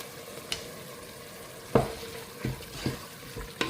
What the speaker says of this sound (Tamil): அதை அப்படியே சும்மா ஒரு ஃப்ரை பண்ணிக்கலாம்.